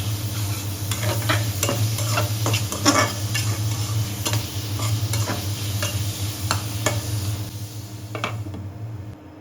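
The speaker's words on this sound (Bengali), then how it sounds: "আলুটা মশলার সাথে খুব ভালোভাবে মিশিয়ে নেব।" Small potatoes are stirred into spice masala in a pan, with repeated utensil scrapes and taps over a low, steady sizzle and hum.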